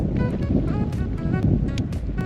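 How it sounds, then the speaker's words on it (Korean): Strong wind and rough sea waves buffet a fishing boat off the Korean coast during a croaker fishing trip, a loud, gusty roar with wind thumping on the microphone and water sloshing close by. "파도가 심해집니다 바람도 많이 불고"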